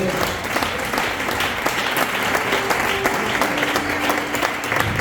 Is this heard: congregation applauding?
yes